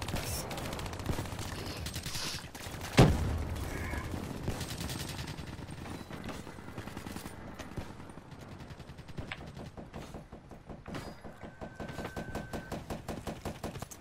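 Rapid automatic gunfire in the video game Call of Duty Black Ops 3, a loud opening blast followed by fast rattling bursts of machine-gun fire that continue through to the end.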